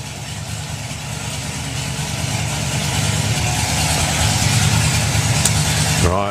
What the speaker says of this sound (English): Right, I can hear a supercharged engine.